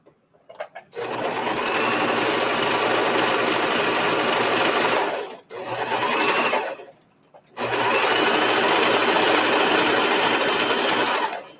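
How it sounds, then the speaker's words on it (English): A serger sewing machine runs loud and close in three steady bursts with short pauses between them, its fast whirring hum alone, while piping is being sewn. "hopefully the serger isn't too loud"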